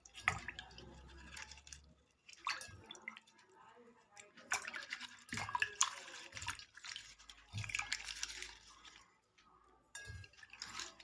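Hibiscus leaves rubbed and swished one by one in a basin of water, with wet squishing, dripping and splashing in irregular bursts, fairly close, as a person talks between the sounds.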